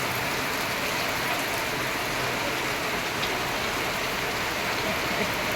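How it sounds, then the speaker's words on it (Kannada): Heavy monsoon rain pours steadily over a green, waterlogged landscape, a dense even hiss with no pauses, close and continuous, with no voices over it. "ಅಷ್ಟು ದೊಡ್ಡ ಮಳೆ ನೋಡಿ."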